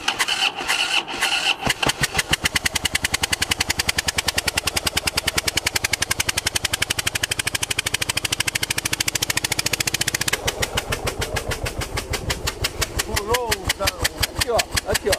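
A Harley-Davidson Twin Cam 96 motorcycle engine with a knocking fault runs loud and close, a fast steady pulsing beat throughout, briefly revving, with people talking over it.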